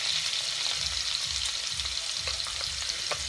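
Chopped celery and onion sweat in a hot pan, giving a steady, close sizzle with soft hiss and occasional light crackles throughout.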